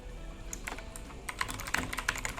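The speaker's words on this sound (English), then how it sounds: "I'm going to hit the R key on my keyboard once again" Quick, uneven keystrokes clatter on a computer keyboard during a website design session, a close run of light clicks that grows busier in the second half.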